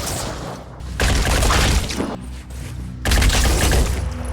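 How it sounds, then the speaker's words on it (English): Grenade blasts in the Phoenix Point video game, a string of loud booming explosions with crackling debris, in three heavy bursts over a few seconds. "We're just gonna chuck a grenade at these 2."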